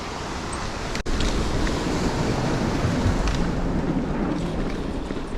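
Steady rushing water from a waterfall and creek off to one side of a new mountain bike trail near Raging River, a continuous broadband roar with wind, heard alone with a brief dropout near the start.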